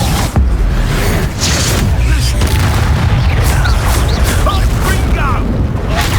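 Spell blasts in the video game Hogwarts Legacy, Bombarda and Confringo, thud as a run of loud booming impacts over a continuous battle din, with a voice shouting over them.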